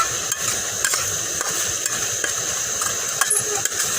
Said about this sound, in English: So we'll get this meat browning up here.